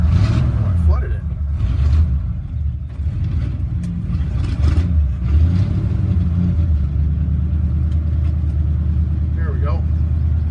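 A 1952 Ford F1 truck engine is cold started, a steady low mechanical rumble running loud and close throughout, with someone speaking briefly over it.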